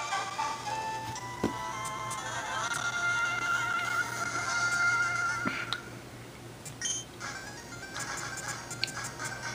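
Game Boy Advance game sound running on an Android phone emulator: steady electronic chiptune-style tones and beeps, continuous at moderate level with sustained melodic notes and occasional clicks, no talking.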